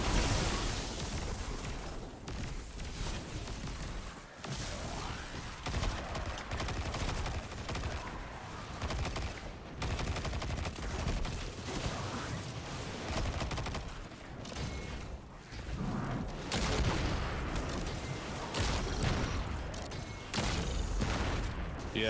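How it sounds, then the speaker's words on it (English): Grenade explosions and gunfire in the video game Destiny 2 during a Titan questline, a dense, continuous barrage of shots and blasts with no pauses. "nice hits with the grenades there"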